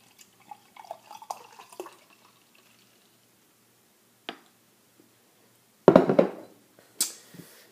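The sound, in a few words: pouring light beer into a glass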